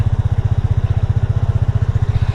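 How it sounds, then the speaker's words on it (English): A Vespa Primavera 150 scooter engine runs right after starting, a loud, close, rapid low putter with an even pulsing beat. "I can squeeze the front brake and then just push this, and that will start the bike"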